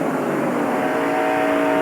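NASCAR stock cars at the 1993 Splitfire Spark Plugs 500 roar past on the track, a loud, steady engine drone with a sustained high whine and no pauses.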